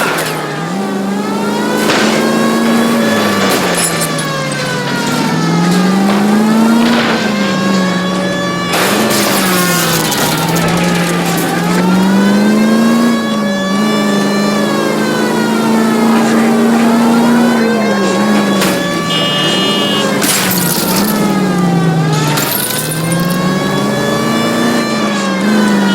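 Car engines in a 1940s Los Angeles police chase in the game L.A. Noire, loud and close, revving up and down repeatedly in surging waves with occasional sharp impacts from cars ramming each other.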